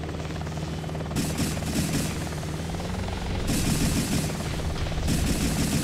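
An Apache attack helicopter in the video game Hostile Waters: Antaeus Rising throbs with a loud, continuous rotor drone, mixed with rapid bursts of gunfire from the game's combat.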